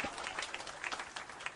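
Faint applause from an audience at an event, a soft patter of clapping hands heard distantly and briefly, with no speech over it.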